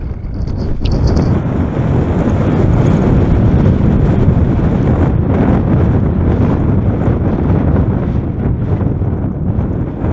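Steady, roaring mountain wind on Denali in Alaska buffets the microphone throughout, a dense low rumble with gusty surges and no voices.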